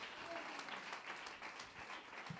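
A church congregation claps in a steady, continuous patter that is fairly faint and distant, with a faint murmur of voices underneath.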